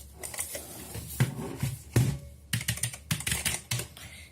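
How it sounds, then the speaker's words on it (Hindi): A Cosmic Byte CB-GK-03 mechanical gaming keyboard is pulled from its box, giving a run of close, crisp rustles, taps and plastic clicks in uneven bursts with no talking. "तो हम कीबोर्ड को जरा बाहर निकाल लेते हैं।"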